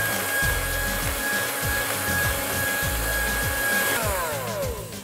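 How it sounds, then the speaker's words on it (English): Eggs and caster sugar are whisked in a bowl, a loud, steady whirring that continues throughout, with repeated rhythmic scraping strokes and no talk. "you're going to whisk this for a couple of minutes until it's thick and pale and creamy"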